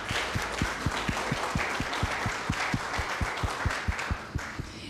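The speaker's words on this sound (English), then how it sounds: "Give yourselves a round of applause." An audience at a Safe Streets community meeting applauds, with one sharp, steady rhythmic clap standing out close by over a dense wash of crowd clapping throughout.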